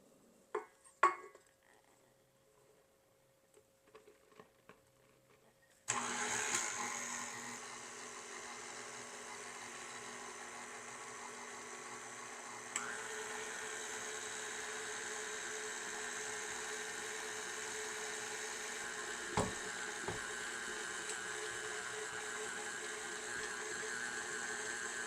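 After a few faint clinks, an electric mixer starts abruptly and runs at a steady whir, creaming butter with powdered sugar in a bowl, with a brief knock partway through and no talking.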